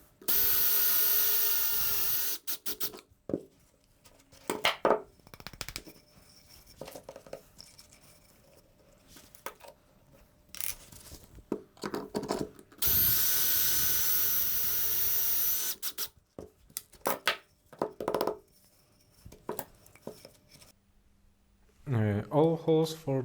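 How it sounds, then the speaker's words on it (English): A drill bores pocket screw holes into a wooden main beam, two long sustained whining bursts with short bits of drilling and mechanical clatter between them, close and loud. "All holes for the pocket screws are done, are drilled."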